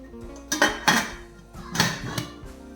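A metal lid set onto an idli steamer pot gives a few close, sharp clanks and rattles in two clusters, with quieter pauses between them.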